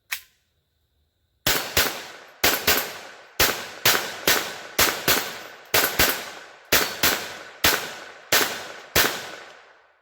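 A Kel-Tec P17 pistol fires Winchester Expert High Velocity 36 grain rounds: one early shot, a pause, then about fourteen sharp reports in a fairly steady string, each loud and close with a short ringing decay.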